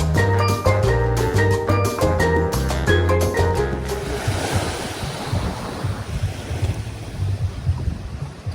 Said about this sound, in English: Good size beach here in St Lucia.